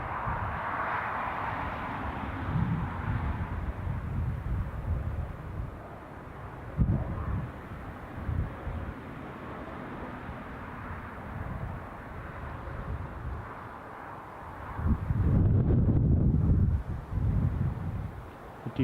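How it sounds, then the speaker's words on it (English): Wind gusting across the open ground of Newcastle International Airport, buffeting the microphone with a deep, continuous rumble that swells into a stronger gust near the end, with no one talking. "I do declare the wind is picking up."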